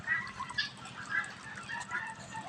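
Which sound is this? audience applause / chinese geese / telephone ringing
chinese geese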